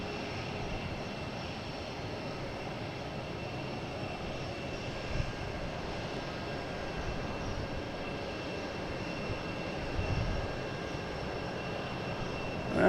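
A Korean Air airliner on final approach into Boston Logan, a steady distant jet engine roar holding for the whole stretch, swelling slightly toward the end, with no talking.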